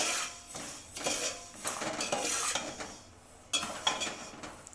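Metal spoon scraping and knocking around a heavy thick-bottomed pot as rice prasadam is stirred, a close, steady series of strokes and clinks with a brief lull near the end.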